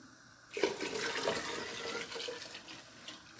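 Water pours from a tap into blended sorrel, starting abruptly after a quiet moment, then running as a steady splashing rush close by.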